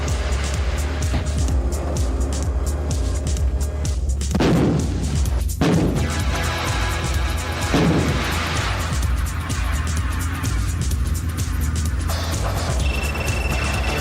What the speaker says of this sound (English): South Africa's massive G6 howitzer, which employs a semi-automatic loader that can fire up to 4 rounds per minute.